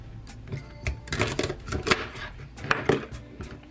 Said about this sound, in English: I'm gonna go ahead and chop the celery